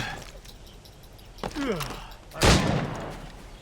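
Two sharp bursts of gunfire in Assassin's Creed Rogue, the second louder and closer, over a low steady background.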